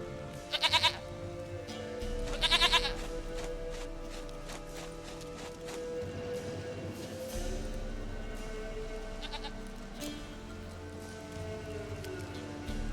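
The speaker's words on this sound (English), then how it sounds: "Goat of mine, dearest, sweetest goat." A goat in The Witcher 3 bleats in short bursts twice early on and again later, over a steady game ambience of rain and low music.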